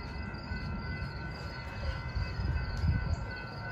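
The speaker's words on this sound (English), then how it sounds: "There's an outbound metro." An outbound Metra commuter train rolls past at close range, a steady rumble and rattle of cars that swells toward the end, with no talking.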